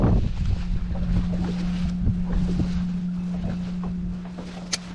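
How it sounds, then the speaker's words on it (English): A bass fishing boat's engine drones steadily close by as the boat is pulled into a dock on Lake Gaston, with wind buffeting the microphone and water sloshing, plus a few knocks and a sharp clank near the end. "I'm pulling my boat back into the dock."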